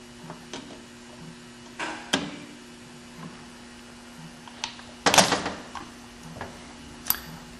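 Snap ring pliers at work on the 1-2 accumulator springs of a late-1996-and-up Ford AODE performance valve body, giving scattered faint clicks, snaps and a louder metallic clatter near the end over a quiet hum, with no talking.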